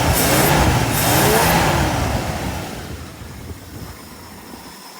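Loud running engine of a 1968 Ford camper special pickup after a carburetor repair, a close, dense roar that fades to a quieter idle over a few seconds.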